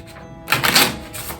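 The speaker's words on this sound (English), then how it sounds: "And I'm gonna give them a shuffle." A deck of playing cards being shuffled at a magic practice table, a short crisp riffling burst that swells then fades, fairly close and with no talking.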